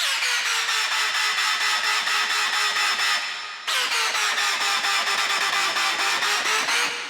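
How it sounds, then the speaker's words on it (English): A buzzy, gritty synth bass plays sustained notes, loud and continuous, briefly dipping before resuming with the same growling tone. "so now our other basses sound like this."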